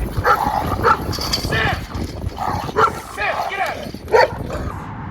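A Giant Schnauzer puppy gives short yips, barks and whimpers in repeated bursts during a training session, close by and mixed with ongoing voices.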